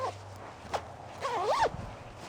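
Zipper run on a winter sleeping bag as the neck baffle is closed, with a short zip stroke followed by a longer, louder pull of sliding teeth, close up and alone.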